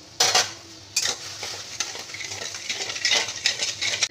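Sugar melting in a pan for chutney, with a spoon stirring and scraping against the pan in a few sharp bursts over a low, steady kitchen hiss; no talking.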